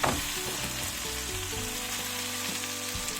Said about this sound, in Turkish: Biraz daha kızartacağım.